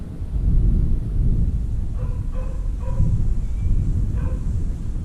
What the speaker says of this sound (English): We got a little thunder.